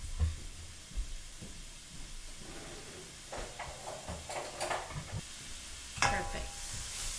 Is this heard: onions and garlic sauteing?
yes